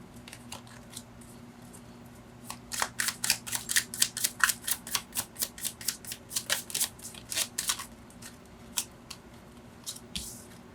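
Tarot cards are handled and drawn in a quick run of crisp snaps and flicks, about two dozen sharp card sounds from close by, then thinning to a few scattered flips, with no talking.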